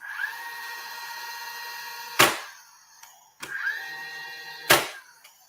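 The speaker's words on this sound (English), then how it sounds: "that's a 2-inch thick piece of concrete with a 2-inch nail, and it's working just fine" A 2-inch nail driven into a 2-inch thick slab of cured concrete floor leveler: two loud metallic ringing strikes with sharp impacts and decaying resonance, close up and without talk.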